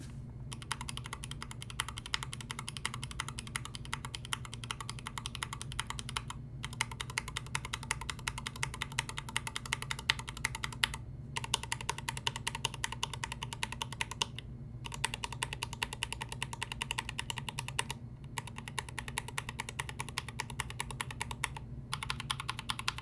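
Continuous typing on an H1 keyboard with linear switches, a dense, even stream of close key clacks at normal speed, broken by a few brief pauses.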